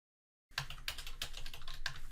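Rapid typing on a computer keyboard begins abruptly after a short silence, a quick run of light, crisp key clicks heard close up and quiet.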